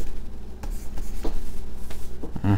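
A pen or marker scratches and squeaks across a writing surface in short strokes during a classical Hebrew lesson, close and fairly loud, with only a little speech.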